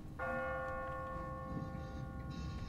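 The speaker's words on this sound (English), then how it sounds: "What kind of church bell goes off at 20 past the hour?" A church bell tolls from a bell tower in The Walking Dead video game, one clear sustained ring with a long humming decay over faint background noise.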